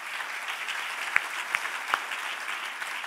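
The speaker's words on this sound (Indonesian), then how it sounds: "Mana tepuk tangannya?" A church congregation at a worship service claps softly in a diffuse, distant patter, with a few sharper individual claps standing out over about three seconds.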